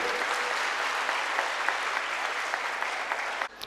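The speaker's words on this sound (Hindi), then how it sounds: "सब लोग ताली बजाइए और तेज।" An audience clapping at a gathering honoring women, a sustained, dense round of applause that holds steady and then drops off abruptly near the end.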